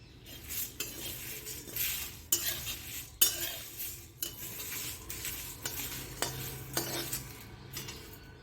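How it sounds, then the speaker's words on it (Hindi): Whole spices being dry roasted in a pan for coriander powder, stirred constantly: repeated spatula scrapes and light metallic clinks over a faint crackle, close and without talk. "और हमें अच्छे से भूनना है और हिलाते ही रहना है।"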